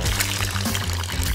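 Water pouring steadily into shoes, a continuous close splashing gush throughout the short moment with no talking.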